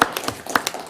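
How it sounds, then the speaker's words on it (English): Brief scattered clapping from a small audience at a county commissioners court meeting, a handful of close, uneven hand claps lasting about a second. "Yeah, we can clap."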